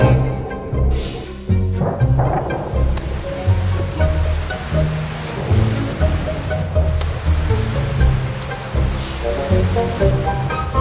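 Steady rain patters on leaves and ground in the Amazon rainforest, a dense continuous wash with scattered heavier drops and faint distant sounds.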